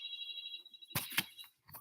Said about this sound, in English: I hear my phone.